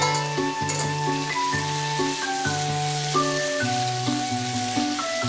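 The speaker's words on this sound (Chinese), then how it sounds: "然后我们放入啊焯好水的香肝啊" Blanched pork liver sizzles steadily in hot oil with sliced ginger and garlic, a continuous crackling fry layered under background music, with no talking.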